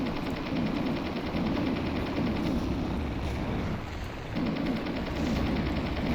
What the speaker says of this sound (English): you can hear the enemy host station nearby.